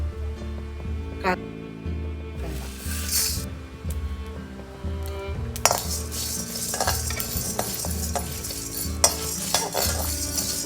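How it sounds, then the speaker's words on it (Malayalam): Urad dal, sesame seeds, mustard seeds and chana dal are dry-roasted in a pan, with a steady light sizzle, frequent scraping and stirring of a metal spoon, and occasional clinks against the pan. "ഉഴുന്ന് കുറച്ച് എള്ള് അര സ്പൂൺ കടുക് കടലപ്പരിപ്പ് ഇതൊക്കെ ഒന്ന് വറുത്തിട്ട് പൊടിക്കണം"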